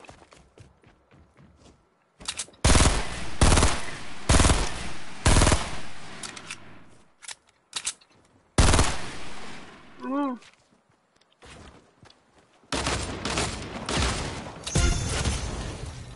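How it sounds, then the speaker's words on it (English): Bursts of automatic gunfire in Fortnite, loud repeated volleys coming in clusters separated by short pauses, with people talking in between. "I'm shooting you. The game's about shooting."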